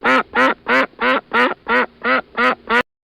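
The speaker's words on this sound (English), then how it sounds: "duck" A duck quacks eight times in a quick, even rhythm, loud and close with nothing else around.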